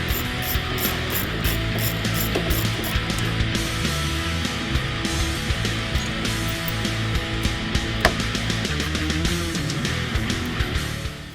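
Ratchet wrench removing radiator bracket bolts on a 2015-2023 Mustang GT, loud rapid clicking runs close up and continuous throughout, no talk.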